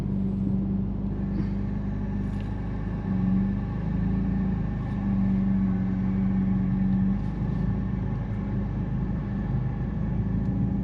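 Steady low engine rumble of a 2025 Mercedes-AMG CLA 45 S with its 416-hp turbo engine in Sport Plus mode, heard from inside the cabin, droning evenly with slight swells in pitch.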